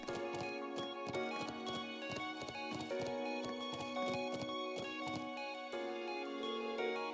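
A horse galloping along a highway in the video game Trails of Cold Steel, with rapid rhythmic hoofbeats pounding steadily throughout under a continuous music score.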